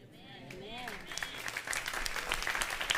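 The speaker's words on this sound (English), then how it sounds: "I know you're doing all that clapping." A church congregation claps during a sermon, the dense clapping building steadily and continuing under a preacher's voice that speaks at the start.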